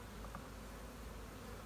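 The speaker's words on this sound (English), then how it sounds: "Bees are just amazing." Bees buzz in a steady, faint drone during a hive inspection, a constant low hum with no voices over it.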